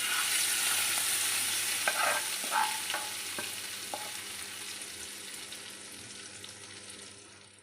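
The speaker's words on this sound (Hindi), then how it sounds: "अब हम इसका तड़का लगा देंगे।" Hot oil hisses and crackles in a steady sizzle as spices with red chilli are tempered for chana dal, with a few clinks of a spoon against the pan, gradually fading.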